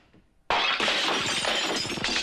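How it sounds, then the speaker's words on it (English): A lamp topples and shatters into pieces: after half a second of quiet, a sudden loud crash of breaking glass rings out and scatters into a continuous jangle of falling shards for nearly two seconds. "Crashing into a lamp, which fell and broke into pieces."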